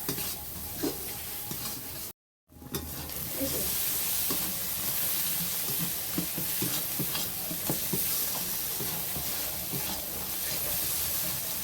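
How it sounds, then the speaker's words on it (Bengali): Masala spices stir-fried in a pan for a potato dish, a loud steady sizzle with frequent scraping stir strokes throughout, briefly cut off near the start, no voices. "মশলাটা আমি ভালো করে একটু কষে নেব।"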